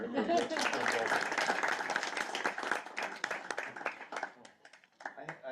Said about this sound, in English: Give a round of applause here for